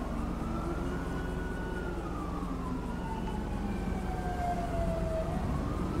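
Video game ambulance siren in GTA 5 approaching, a wailing tone sweeping up and down over a low engine rumble, moderately distant and growing steadily.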